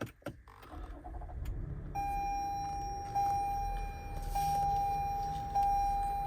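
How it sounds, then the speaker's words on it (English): A 2022 Toyota Highlander engine cranks and catches, settling into a steady idle while a high chime tone sounds repeatedly in the cabin. "Start it up just like that. Hear the typical Toyota sounds."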